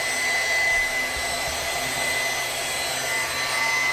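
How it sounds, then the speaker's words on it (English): A vacuum cleaner drones steadily at moderate volume, a constant airy whine with no breaks or voices over it. "I love that vacuum."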